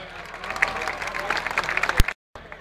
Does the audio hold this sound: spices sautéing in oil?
no